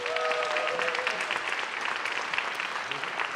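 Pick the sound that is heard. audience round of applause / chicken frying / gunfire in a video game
audience round of applause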